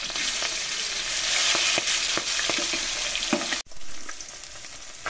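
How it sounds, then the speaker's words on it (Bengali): Fish hisses and sizzles loudly in hot oil in a wok, a bright continuous frying crackle with occasional pops and stirring scrapes, cutting abruptly near the end to a quieter sizzle. "কড়াইয়ে মাছ দিয়ে দিচ্ছি।"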